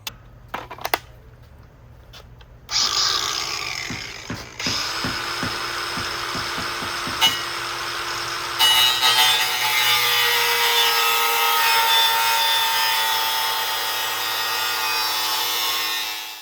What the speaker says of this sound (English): I'm gonna shave off all of that metal.